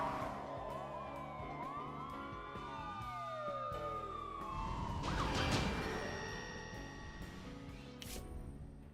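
Police sirens wail and sweep up and down in pitch. Several overlap and grow louder, then fade, with traffic rumbling underneath on a Hollywood street.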